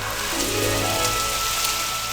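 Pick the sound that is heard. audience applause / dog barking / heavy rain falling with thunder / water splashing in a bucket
heavy rain falling with thunder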